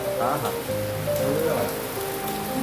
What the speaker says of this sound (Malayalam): നോക്കുമ്പോൾ ഇന്ന് നല്ല മഴ